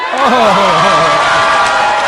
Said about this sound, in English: And they cheering.